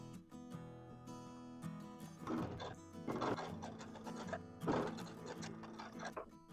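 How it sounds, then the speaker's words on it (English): A sewing machine runs in short bursts as it stitches a diagonal seam across a quilt block, close and mechanical with brief pauses between runs. "I'll sew diagonally following the line that I marked"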